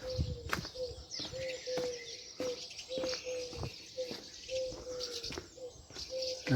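Small birds chirp and tweet in a quiet French village, a steady run of short, bright calls repeating every half second or so, fairly close and clear with no talk over them.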